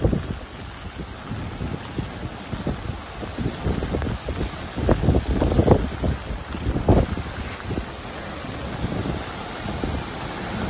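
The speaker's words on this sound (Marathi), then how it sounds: "पाणी एवढ्या स्पीडनं जायला लागलं नाही सांगता येत। एवढं भयंकर पाणी चालू आहे।" Floodwater rushes past a submerged gate at high speed, a loud, continuous roar of churning water with gusty surges and heavy low rumbling, heard alone with no voices.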